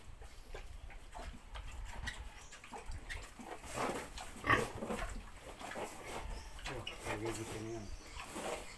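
A sow grunts and snorts in a pen during breeding, with low irregular grunts rising and falling near the listener and a person's voice occasionally heard underneath.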